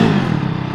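A KTM Duke 690 motorcycle engine rumbles loudly and close in a short, steady burst, its low throb slightly rough.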